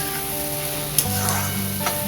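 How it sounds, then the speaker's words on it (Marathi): Onion and capsicum sauté in a hot pan for pav bhaji, a steady close sizzle with a couple of soft spoon scrapes, no voices. "कांदा नरम करूया, लाल जरा करूया। शिमला मिरची टाकूया। छान परतून घेऊया आपण।"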